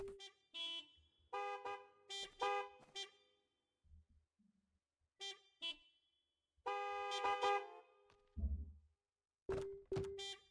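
Car horns honk repeatedly in a gas station video game, bursts of single toots and longer blasts with gaps of quiet between them, fairly clear and close with no talk over them.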